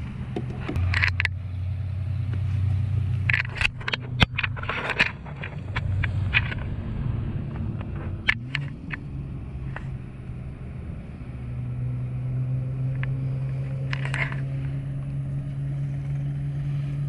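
A Traxxas 4Tec 3.0 RC car with a brushless conversion on stock gears whines along at speed, its motor pitch rising in fast runs and dropping away, with scattered clicks and knocks over a steady low hum.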